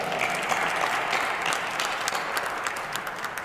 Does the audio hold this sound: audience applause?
yes